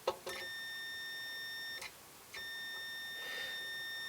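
Several electronic beeps from an Innova 3320 multimeter's continuity buzzer, steady pure tones that start and stop abruptly with short gaps between them, over quiet background hiss.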